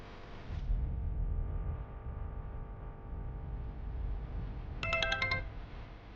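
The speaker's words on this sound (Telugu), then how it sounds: "ఆ పార్వతికి ఫోన్ చేయండి, నేను మాట్లాడతాను." A phone rings during a call in a Telugu TV serial scene, a short burst of bright electronic ringtone near the end over a low steady background hum, with no talking.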